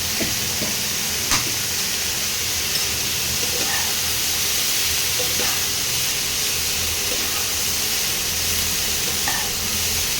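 Cauliflower and potato with chili powder frying in a pan, a steady broadband sizzle with a few faint stirring clicks, continuous and close with no talking.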